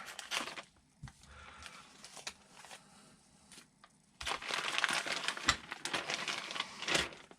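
Crinkling and rustling of a plastic parts bag for a TLR 22T 4.0 1/10 2wd stadium truck kit being opened, quieter handling at first, then a louder, denser burst of crackling crinkles, close up with no talking.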